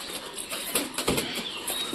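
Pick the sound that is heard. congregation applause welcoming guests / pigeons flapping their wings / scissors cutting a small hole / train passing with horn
pigeons flapping their wings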